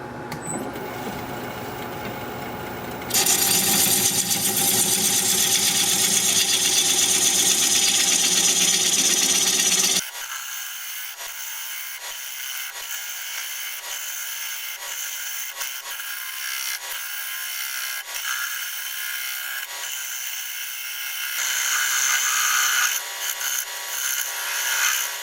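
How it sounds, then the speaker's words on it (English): Plum wood spins on a lathe at about 500 RPM while a 5/8 inch bowl gouge shapes the side profile, giving a loud, steady scraping hiss with repeated cutting catches and shifts in tone. "We're going to get back to turning the side profile here with my 5/8 inch bowl gouge."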